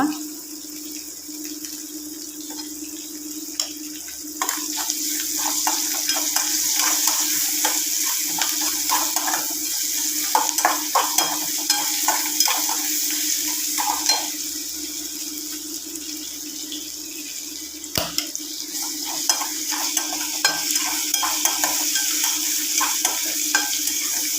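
Ginger and garlic fry in a pan with a steady soft sizzle, broken by scraping stirs and faint clinks that grow busier after the first few seconds.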